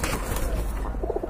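Caged pigeons at a pigeon sale give a few soft, low coos near the end, under a steady background hum and market noise.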